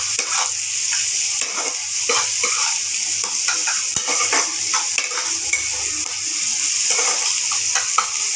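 Coconut, chopped chili and garlic fry together in a pan with a loud, continuous sizzle, close by, while a spoon stirs and scrapes through the mixture in quick repeated strokes.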